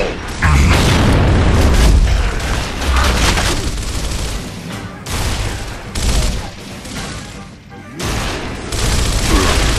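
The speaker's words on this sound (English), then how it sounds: "Fire in the hole." Grenade explosions and heavy gunfire in the video game Gears of War, loud booming blasts and sustained battle noise filling the whole stretch, with a dense rumbling low end.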